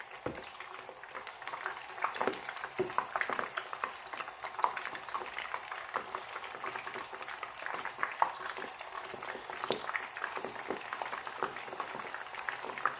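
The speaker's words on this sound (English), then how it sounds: "I'm just frying a few just to show you." Falafel balls fry in hot oil with a steady, fairly quiet crackling sizzle and scattered pops that continue throughout.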